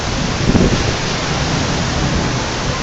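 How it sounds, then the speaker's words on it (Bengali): Heavy rain pouring down in Dhaka with low rumbling thunder underneath, a dense constant hiss of downpour close and loud throughout. "অনেক বৃষ্টি।"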